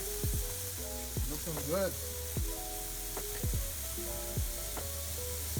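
Skewers of Manila street-food barbecue sizzle on a grill while being basted, a steady crackling fry with scattered pops and squeaks. A person briefly speaks over it.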